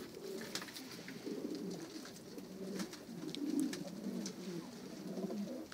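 Pigeons coo steadily in the snow in Ankara, a continuous chorus of low, rolling coos from a nearby flock with faint chirps above and no speech.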